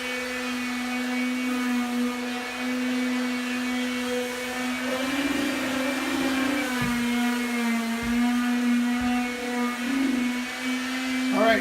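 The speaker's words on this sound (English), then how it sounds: "We're going to try to vacuum up as we go, just to keep the dust down" A vacuum cleaner pulls up floor sanding dust during a house floor refinishing job, giving a steady close whine and whir that runs throughout with slight shifts in pitch and a few soft knocks.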